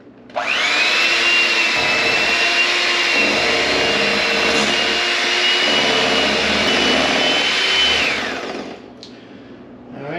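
An electric mixer beats cherry cream cheese pie filling in a bowl, starting abruptly and holding a loud, steady high motor whine for about eight seconds before cutting off, with faint clinks near the end.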